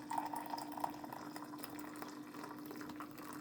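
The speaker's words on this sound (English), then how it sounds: "just gonna go ahead and pour this cup." Coffee pours steadily into a 12-ounce cup from a K-cup coffee maker, a soft continuous trickle heard up close and alone, quiet throughout.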